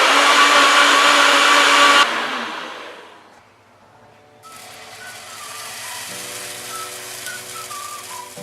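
A blender whirs loudly for about two seconds while mixing protein pancake batter with cinnamon, then stops and leaves a quiet gap. A fainter hum with light whistling tones comes in after that.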